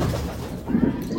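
A female pigeon gives a short, soft coo up close, set against low background noise.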